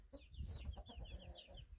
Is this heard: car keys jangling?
no